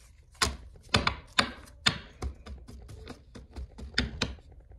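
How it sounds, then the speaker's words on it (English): A deck of playing cards shuffled during a magic trick, heard as a series of crisp, sharp riffling bursts at an uneven rhythm, close and fairly quiet. "Okay, I'm gonna shuffle it."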